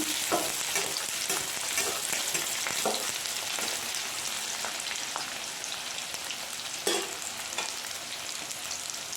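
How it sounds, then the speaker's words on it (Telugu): Onions fry in a pan for a chicken gravy with a continuous crackling sizzle, spattering like light rain, as occasional spatula scrapes and taps cut through at close range; there is no talking. "ఉల్లిపాయలు ఎర్రగా ఫ్రై చేసుకోవాలి"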